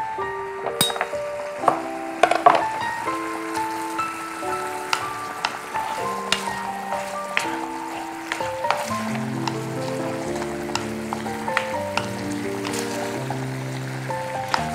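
Tomato halves sizzle gently in a frying pan while Indian vegetarian dishes are prepared, soft steady crackling and spitting over about fifteen seconds with quiet melodic background music.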